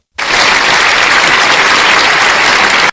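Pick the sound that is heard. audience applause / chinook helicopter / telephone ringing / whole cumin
audience applause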